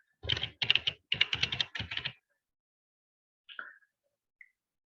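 Keys clatter on a computer keyboard as a name is typed in, four quick bursts of close keystrokes followed by a couple of isolated clicks in a quiet room.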